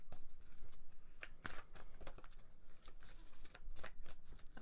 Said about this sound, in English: hold on, I'm going to shuffle over here.